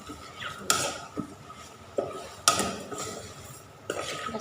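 Pork bones stir-fried in a pot, a spoon or spatula clanking and scraping against the metal in irregular bursts, several sharp knocks over a soft background.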